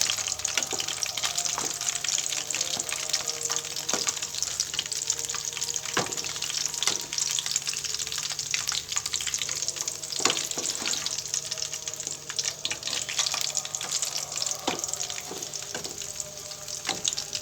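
Garelu, lentil fritters, sizzling and frying in oil at medium heat, a steady dense crackle with scattered sharper pops throughout, close and loud with no talk.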